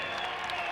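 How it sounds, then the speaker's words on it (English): Crowd applause in the old Roubaix velodrome for the Paris–Roubaix winner, a short wash of steady, slightly distant clapping with a muffled, broadcast-like tone. "The applause will go on for hours, I'm sure"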